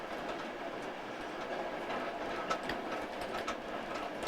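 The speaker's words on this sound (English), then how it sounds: "How to pour a Pilsner pour on a train to Bratislava." A passenger train bound for Bratislava rolls along the tracks, heard from inside as a faint steady rumble with light rhythmic clacks and rattles.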